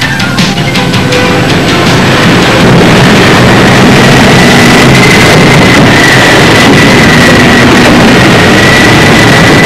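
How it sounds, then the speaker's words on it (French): Liebherr bulldozer with a turbocharged six-cylinder Cummins diesel running, a loud continuous engine drone with a steady whine, heavy wind buffeting on the microphone and no pauses. "Le moteur thermique est un moteur Cummins 6 cylindres turbochargé, développant 243 kW, c'est-à-dire 330 chevaux"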